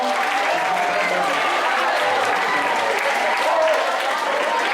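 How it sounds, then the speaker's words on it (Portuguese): A room full of people at a study-techniques lecture breaks into sustained applause, an even wash of many clapping hands with a faint murmur of voices mixed in. "Uma salva de palmas para ela aqui,"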